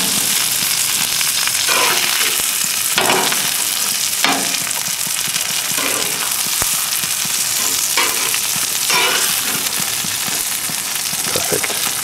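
Duck breast sizzles and spits steadily in a pan of hot olive oil, a loud, continuous close-up frying hiss with faint crackles and occasional louder pops and no talking.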